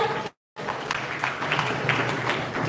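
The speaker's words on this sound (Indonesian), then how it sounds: "berikan tepuk tangan yang meriah untuk Syafan" An audience at a high school discussion bursts into applause, a dense crackle of clapping that briefly cuts out, then resumes steadily at moderate volume.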